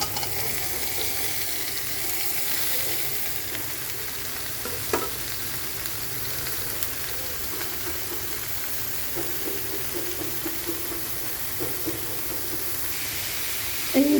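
Paneer cubes fry in butter in a pan with a strong, steady sizzle and hiss up close, marked by scattered stirring scrapes and a few soft knocks.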